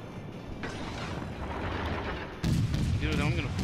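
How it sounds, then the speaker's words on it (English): Secondary guns on a warship fire at an enemy battleship in a naval combat video game, a dense rumbling barrage that swells into heavier, louder blasts near the end, with a voice briefly audible underneath. "My secondaries have opened up on the battleship."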